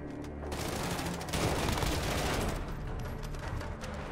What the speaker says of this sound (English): you're bound to rack up eliminations from just a few bursts of devastating shots